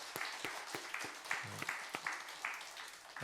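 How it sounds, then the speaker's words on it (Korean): Church congregation claps at a Sunday service to welcome back a deacon home on leave, a sparse, fairly quiet round of separate claps in an uneven rhythm with a murmur of talk. "박수로 환영하겠습니다."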